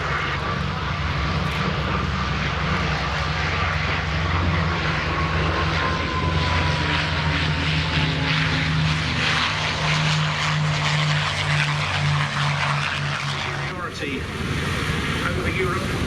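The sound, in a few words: Boeing B-17 bomber propeller engines at Duxford airshow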